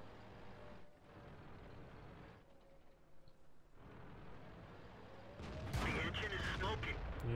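A tank cannon fires in World of Tanks while previewing the Heavy Tank No.VI, a loud low boom bursting in near the end over steady engine rumble and battle noise, with a voice speaking earlier.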